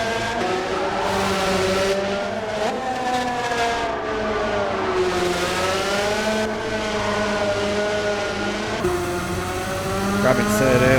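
A race car engine in Gran Turismo 7 revs continuously, its pitch climbing and falling through gear changes and corners, with a brief tire-squeal edge near the end.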